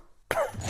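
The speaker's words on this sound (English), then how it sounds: "We'll be needing another bang on the awkward coughing and chairs scraping clip." A single short cough bursts out after a moment of silence, close and abrupt.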